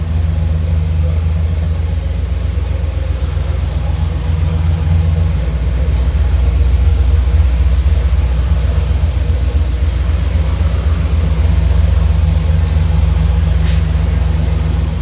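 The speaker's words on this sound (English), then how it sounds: "1975 LT / Z28 Camaro." A rebuilt 1975 Chevrolet Camaro LT Z28 engine idles close by, a loud and steady low rumble that holds even throughout with no talking.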